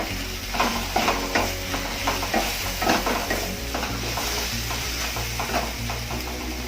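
A spoon stirs coriander powder into potato and okra frying in a pan, giving continuous scraping and rustling over a steady sizzle and a low background hum, with no speech.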